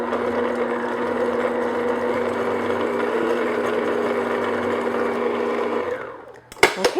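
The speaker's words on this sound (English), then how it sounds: "put my mixer on medium speed and just mix this until you get a nice smooth batter" An electric stand mixer runs steadily on medium speed, beating cake batter for a strawberry chiffon shortcake, a continuous close whirring drone that cuts off near the end, followed by a few brief clatters.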